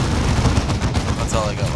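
Squads focusing gunfire in the Dawn of War 2 video game, with dense, continuous automatic fire and explosions rumbling loudly throughout and a voice speaking briefly over the din.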